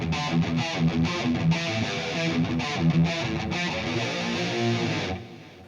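Electric guitar played through a Lekato PA-1 pocket amp on its VHT Pitbull high-gain distortion preset, a loud, dense run of chugging riffs and sustained chords lasting about five seconds before the sound cuts off abruptly.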